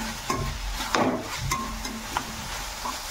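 Hakka noodle masala stirred into veg Hakka noodles in a hot pan, with scraping spatula strokes and sharp clacks against the metal over a light sizzle, close and repeated.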